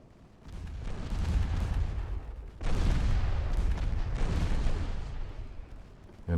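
Battleship secondary guns fire in a naval warfare strategy game, making a dense, continuous barrage of booming salvos that swells in several surges, loud and close, with no voices.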